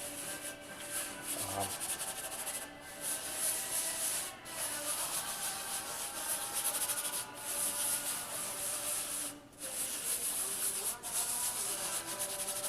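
Cleaner being rubbed into the surface of a picture with steady, scratchy back-and-forth strokes, close and moderately quiet, with no talk.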